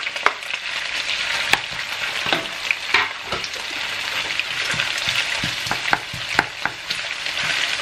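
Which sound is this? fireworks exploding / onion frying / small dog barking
onion frying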